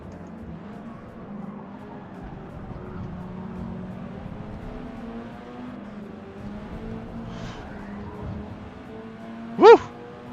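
Colin McRae Subaru WRX rally car engine in a Forza video game, a low droning hum holding steady with slight pitch shifts, then a short sharp yelp-like burst near the end.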